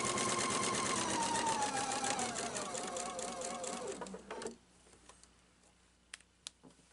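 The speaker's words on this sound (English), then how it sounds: "I sewed all 4 sides, and I'm inside of that 1/4 inch" A sewing machine runs steadily, stitching binding onto a pumpkin pillow, then stops around the midpoint, leaving a few light clicks and taps in a quiet room.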